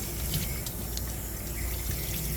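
Running water from a tap or sprayer while a Coton de Tulear is bathed during grooming, a loud, steady, close hiss and splash that continues without a break.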